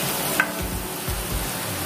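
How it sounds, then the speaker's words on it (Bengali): Onions fry in hot oil for kachori filling, a steady close crackling sizzle with occasional soft stirring scrapes. "এটাকে হালকা গোলাপি করে ভেজে নেব"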